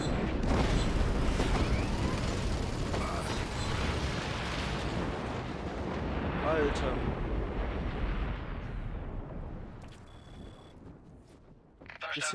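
Deep, rumbling explosions in Just Cause 3 roar continuously, then slowly fade, with a brief spoken word near the end.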